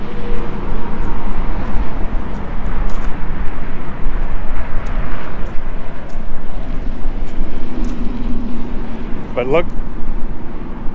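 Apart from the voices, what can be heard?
roar of road traffic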